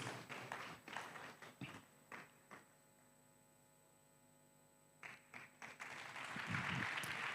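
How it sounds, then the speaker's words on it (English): At an e-learning conference closing ceremony, an audience claps faintly for an award recipient in scattered bursts over a steady mains hum. The clapping pauses for a couple of seconds, then returns and swells toward the end. "Let's clap for her as she comes"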